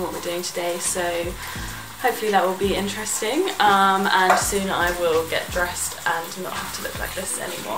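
Scrambled tofu for breakfast frying in a pan, a soft crackling sizzle running steadily beneath a person speaking close by throughout.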